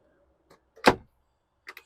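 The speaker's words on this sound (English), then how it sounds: "You have a little pantry here that comes out." A small pull-out pantry drawer slides out inside an Airstream Interstate 19SE Class B motorhome: a single short clunk-and-slide, followed by a few faint light taps in an otherwise quiet interior.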